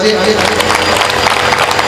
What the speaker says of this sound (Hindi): मैं चाहूंगा एक बार देवेंद्र जी के लिए आप तालियां बजा दीजिए।